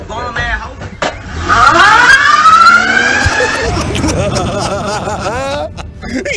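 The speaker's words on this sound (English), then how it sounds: "Listen to the sound of his car" A car engine revs and pulls away, a rising strained whine climbing in pitch and then fading, with voices and laughter from a nearby crowd over it.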